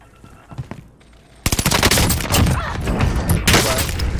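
A sniper rifle shot rings out in a first-person shooter game, followed by a dense, sustained burst of rapid gunfire and blasts that stays loud and close to the end.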